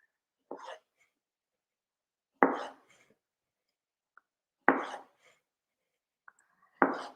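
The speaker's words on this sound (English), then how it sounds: "I quarter my cherry tomatoes, or can use just half" Knife chopping cherry tomatoes into quarters on a cutting board, four distinct sharp thuds spaced about two seconds apart in a quiet room, each a short crisp cut followed by silence.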